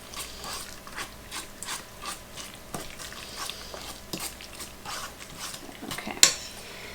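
Spinach artichoke dip being stirred in a bowl at home, giving soft scraping and clinking of a utensil against the bowl in an irregular rhythm, with a sharper clack near the end.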